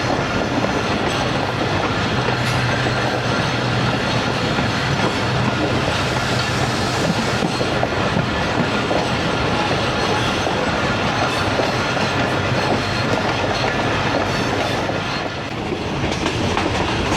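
Fareed Express passenger train rolling on the branch line from Walton to Kasur through countryside, a loud continuous rumble of wheels and carriages with steady clickety-clack, heard close from on board throughout.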